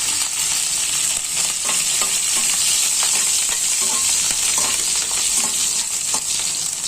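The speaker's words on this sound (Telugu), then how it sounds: "వేగుతున్నప్పుడు ఉల్లిపాయ వేసేసేయాలి." Onions and green chillies frying in hot oil, a loud, dense, continuous sizzle with faint stirring clatter underneath, steady and close throughout without any speech.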